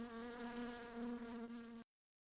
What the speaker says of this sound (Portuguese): com esse mosquito zoando no meu ouvido